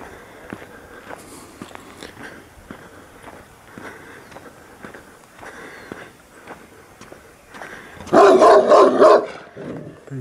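A dog barks in a short loud burst near the end, after soft footsteps and rustling.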